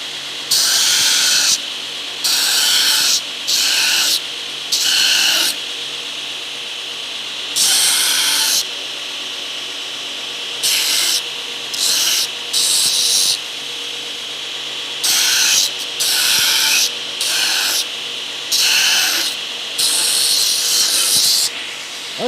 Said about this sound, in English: Let me go hit that on the grinder real quick.